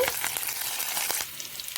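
Onions, tempering spices and curry leaves fry in hot oil with a steady, close crackling sizzle and a few brief stirring scrapes, with no voices.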